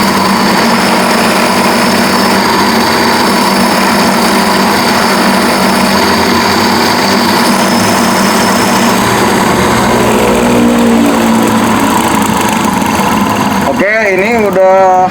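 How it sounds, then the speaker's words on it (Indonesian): A cam grinding machine grinds the base circle of a camshaft, producing a loud, steady, continuous mechanical whine and hum. Near the end, a brief rising and falling whistling tone cuts through. "Ini tadi udah mulai penggerusan di bagian base circle-nya sekaligus pemprofilan."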